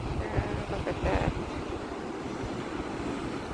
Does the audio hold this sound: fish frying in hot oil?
no